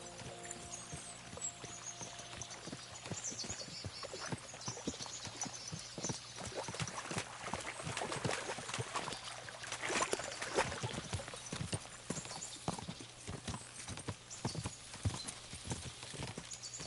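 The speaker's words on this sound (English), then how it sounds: "As soon as we cross the stream, we'll give the horses a gallop again." Horses gallop in a video game with a steady, quick run of hoofbeats that lasts about seventeen seconds, moderately loud, with a brief neigh near the start.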